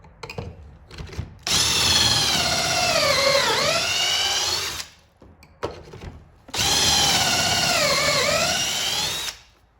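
A power drill whines loudly through two long bursts of several seconds each, its pitch dipping as it bites into wood while drilling pocket holes with a Kreg K5 jig, with short pauses between.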